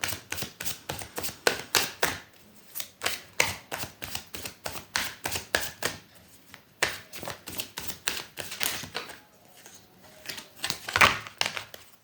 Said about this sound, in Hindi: सॉरी, एक लास्ट शफल।